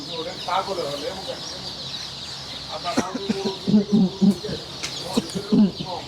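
Day-old chicks fill a wholesale hatchery shop with a constant high chirping, and a few louder fowl clucks cut through. Someone talks over the noise.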